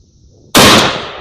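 A single loud, sharp shotgun blast firing a black powder load milled for 72 hours, cracking abruptly out of near silence and decaying with a broad rumbling tail.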